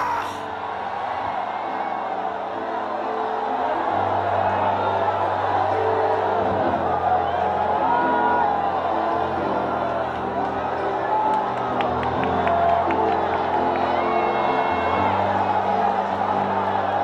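A Pentecostal Assembleia de Deus congregation in Penha shouts and cheers "glory", a sustained loud crowd roar of mixed voices and whoops lasting throughout.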